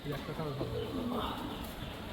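Prize-winning pigeons cooing in a loft, soft low coos close by, heard continuously under a voice.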